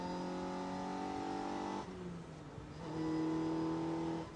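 S1 Sport 190 car engine pulling in fourth gear on an open road, a steady harmonic drone that dips briefly as the revs drop, then climbs back and holds strong near the close.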